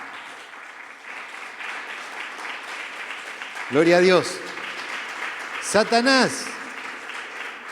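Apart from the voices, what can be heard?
applause from church congregation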